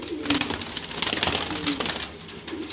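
Select grizzle pigeons, males and females kept for sale, coo softly in repeated throaty rolls at close range, with a few faint rustles and no clear talking.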